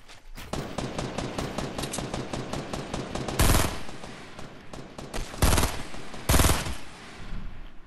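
Rapid automatic gunfire from the video game Fortnite, long rattling bursts of shots broken by a few heavier blasts, loud and continuous with no talk.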